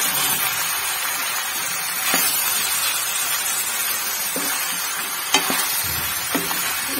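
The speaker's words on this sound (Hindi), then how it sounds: "मैं आलू डाल दी, इसको मैं अच्छे से मिक्स करूंगी।" Potatoes being stirred in a frying pan: a constant oily sizzle with a few distinct spoon scrapes spaced a second or two apart, close and fairly loud, with no voices.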